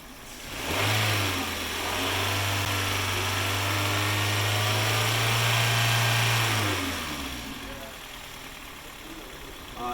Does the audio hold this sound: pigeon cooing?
no